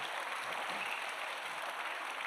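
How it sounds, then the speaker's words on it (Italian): An audience at a live event in Ollolai gives Mrs. Desolina an even, continuous wash of applause. The clapping is dense and somewhat distant, with no talk over it. "Un applauso forte alla signora Desolina."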